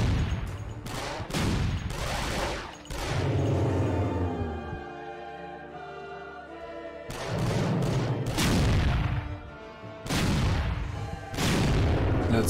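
Gunshots in the video game Resident Evil The Darkside Chronicles, loud booming bursts of gunfire in several clusters separated by short lulls, close and heavy.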